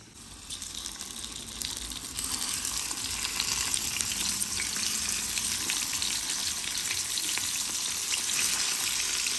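Hilsa fish pieces and long eggplant sizzle steadily in a frying pan with oil, a dense continuous crackle that swells slightly after the first couple of seconds and holds at a constant close level, with no one talking.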